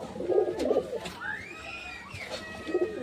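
Pigeons in a pigeon house coo softly in low, rolling bursts, close by, with a few brief higher calls and rustles between them.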